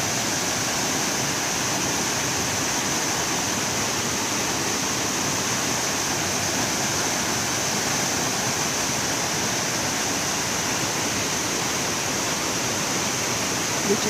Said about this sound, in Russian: Так, третий водопад